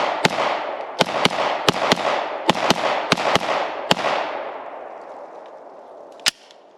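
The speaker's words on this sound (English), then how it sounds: "Very first shots from the full-size PDP." Full-size Walther PDP pistol fired at an outdoor range, a string of about ten sharp, loud gunshots in a quick, uneven rhythm, each ringing out briefly, then a final lone shot after a pause.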